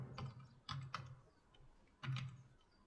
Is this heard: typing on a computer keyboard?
yes